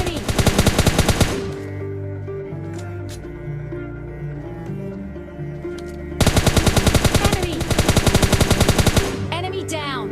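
Rapid automatic gunfire in PUBG Mobile rattles out in two loud sustained bursts, separated by a quieter stretch of game ambience and a few isolated shots.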